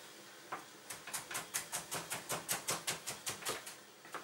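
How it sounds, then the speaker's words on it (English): Ginger is finely chopped with a knife on a board, a quick steady run of about fifteen crisp, evenly spaced close taps that grow slightly louder, with no talking. "The ginger also chop finely"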